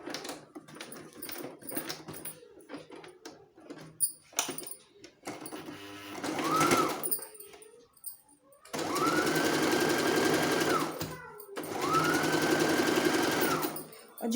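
A sewing machine stitching a baby frock runs in several bursts, with short taps and pauses early on, then two long, steady runs that rise quickly to full speed. It is close and loud, and there is no talk over it.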